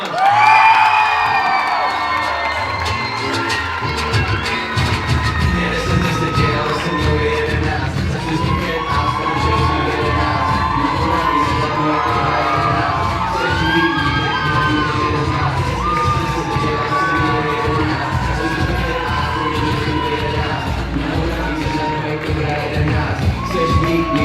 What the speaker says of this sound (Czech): Je to Laura Golová, prosím potlesk.